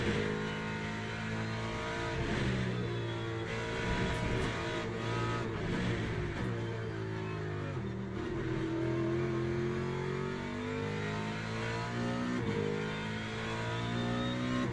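A GT3 race car engine in Le Mans Ultimate revs and holds high, its tone rising and dipping through gear changes in a steady, sustained drone with no talk over it.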